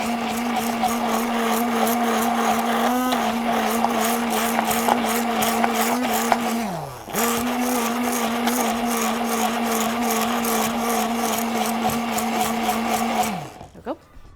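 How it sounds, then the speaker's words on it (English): An immersion blender runs loud and steady with a harsh grinding whine, briefly dipping and cutting out near the middle before surging back and then stopping at the end. "My immersion blender makes this weird noise."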